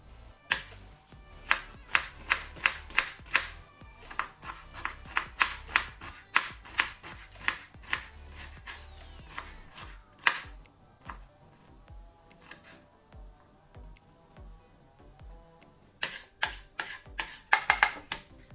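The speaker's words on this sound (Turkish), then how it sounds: "Bir adet kuru soğanımı ince ince, ince ince de doğramanıza gerek yok." A kitchen knife chops a dry onion on a cutting board while preparing Turkish oven-baked karnıyarık, giving a run of quick, crisp, evenly spaced cuts up close, a pause, and a final fast burst of chops near the end.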